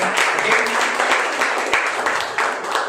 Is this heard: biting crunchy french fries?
no